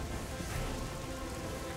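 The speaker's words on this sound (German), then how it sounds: "Aber ich mag diesen Effekt mit den Regen" Steady rain effect in the video game Orion: Prelude, a dense, even hiss of falling water that fills the short stretch without pauses or voices.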